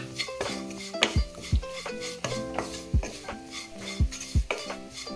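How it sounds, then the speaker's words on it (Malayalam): Jackfruit seed curry ingredients are stirred in a metal pan, a spoon scraping and knocking against the pan in quick rhythmic strokes, close and clear. "ഇനി നമുക്കിതെല്ലാം കൂടെ ഒന്ന് ഇളക്കാം."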